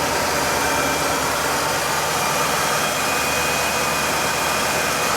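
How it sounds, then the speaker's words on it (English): A steady, smooth 1976 Cadillac Eldorado V8 idle with a low rumble under a broad, even hiss, holding constant throughout without revving. "Just a tad of exhaust note."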